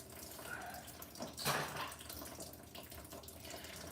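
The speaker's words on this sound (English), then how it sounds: "Well, that's draining." Coolant drains from a car radiator during a radiator replacement after a cooling system failure, a faint steady trickle and splash with a brief louder gush midway.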